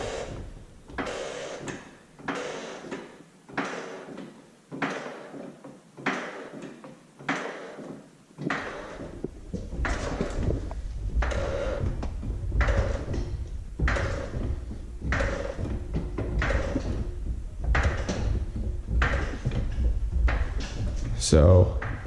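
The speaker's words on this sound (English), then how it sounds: "this is a prime example of the squeak noise I'm talking about" A squeaking sway bar bushing on a Turbo car, worse over bumps, gives a repeated creaking squeak roughly every second while driving, steady and prominent over road rumble.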